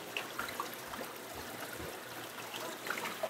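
Spring water piped from rock seepage across the river at a valley carp restaurant flows steadily, a soft continuous trickle with small splashes, alone and moderately quiet.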